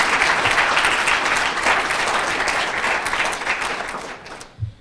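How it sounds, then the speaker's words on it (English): Applause from the audience at a public debate, a dense, fairly close clapping that holds steady and then tapers off toward the end. "But a round of applause starts."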